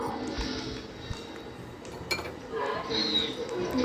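A kadai set down on a stove, with a few metallic clinks and knocks of pan against burner, close by, over background kitchen noise and a speaking voice.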